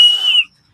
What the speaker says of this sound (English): you don't know how to whistle like with your fingers